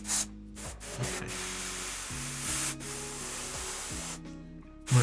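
Spray can of paint hissing onto a model base in steady bursts, a close, broad airy spray with short gaps between passes and no talk.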